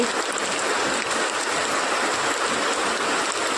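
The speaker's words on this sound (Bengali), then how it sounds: "এই দেখো জোরে বৃষ্টি হচ্ছে" Heavy rain pours down outside a home balcony, a steady, loud, broadband rush of water with no pauses and no voices.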